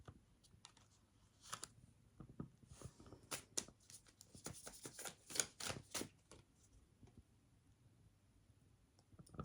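Tarot cards being shuffled in a series of quiet, uneven bursts of crisp riffling and clicking, close and fairly faint, with no voices.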